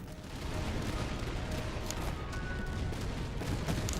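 Crackling massed musket fire from a Napoleonic-era battle in the strategy game Master of Command rolls on as a dense, continuous fusillade at steady loudness, with no talk over it.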